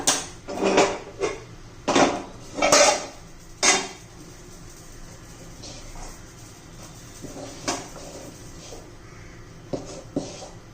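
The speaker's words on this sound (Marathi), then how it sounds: "आपले पात्र गरम करण्यासाठी घेऊया" An appe pan is set out on the stove to heat with several sharp metallic clanks and knocks of cookware close by, then quieter scattered kitchen clatter afterward.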